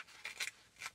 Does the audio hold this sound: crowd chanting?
no